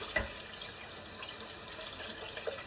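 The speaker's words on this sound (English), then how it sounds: "Let's give our bird a rinse." Tap water runs steadily into a sink while a whole raw chicken is rinsed, giving a soft, continuous close splashing hiss with a couple of faint clicks and no speech.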